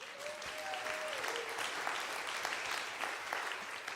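Steady, sustained audience applause at a live country songwriter music show, dense clapping filling the room for the full stretch, with no talking over it.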